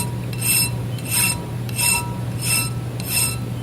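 A hand file rasps over a metal drill point gage in four or five evenly spaced strokes, each a bright scraping swipe over a steady low hum, with no voices.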